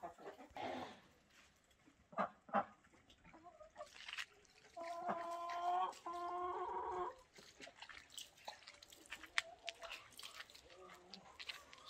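Chickens in a village garden on a cold winter day, with a run of clucking calls in the middle of the clip, mixed with bird chatter and other farmyard sounds. People talk nearby, before and after the calls.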